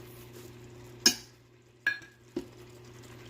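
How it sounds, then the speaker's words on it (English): A spoon scrapes and knocks against a pan while stirring a creamy pepper and tomato sauce with tomato paste, three separate clinks and scrapes over a faint background hum. "Give it a mix."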